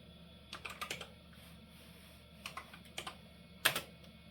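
Keystrokes on a 386-era PC keyboard as a DOS DIR command is typed, with a few quick bursts of clicks, a pause, then more taps and one louder final key press, close up and alone.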